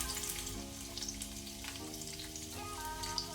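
Chopped garlic and cumin seeds frying in hot oil for a Kannada-style moong dal thove, a steady dense sizzle running throughout at close range with faint stirring and no voices.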